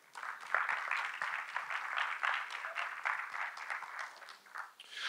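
Audience applause at a Brazilian oil-sector panel event, a steady wash of many hands clapping at moderate loudness that holds for several seconds, heard from within the hall.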